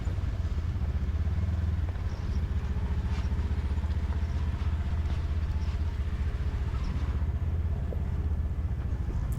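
Side-by-side off-road vehicle driving down into Bruneau Canyon, a loud steady engine drone with low rumble and light clatter that holds constant throughout, close to the listener and with no talking over it.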